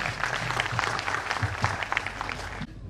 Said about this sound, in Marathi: या संगीत समूहासाठी जोरदार टाळ्या झाल्या पाहिजे परत एकदा